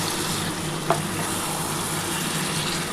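Spicy chicken masala sautés in a pan, giving a steady, close, even sizzle and hiss throughout, with one brief faint clink of a utensil partway in.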